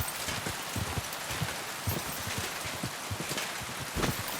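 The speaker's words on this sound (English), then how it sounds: "I also notice it's raining." Dense, steady rain patters down in the video game Kingdom Come: Deliverance 2, with scattered heavier drops tapping through the hiss. No one speaks.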